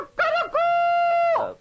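At dawn a rooster crows once nearby, a loud, clear cock-a-doodle-doo with a short opening note and a long sustained call, heard alone.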